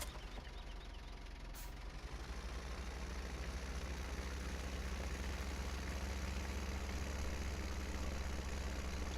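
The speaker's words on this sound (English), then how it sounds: "This is a nice little tractor. I like it." A small tractor engine idles in the farming video game Farming Simulator 17. It makes a steady low rumbling drone with a fast, even chug, and it holds at a moderate level throughout with no voices over it.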